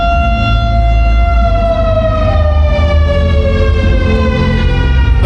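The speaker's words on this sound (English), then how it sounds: "That sound is an air raid siren" An air raid siren in León, Nicaragua wails steadily and loudly, its sustained tone slowly sliding in pitch over a heavy low rumble.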